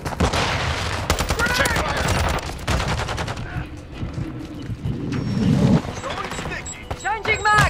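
ISO Hemlock assault rifle fire in Modern Warfare 2 crackles in rapid bursts and repeated shots amid other game effects, while a player talks over the action.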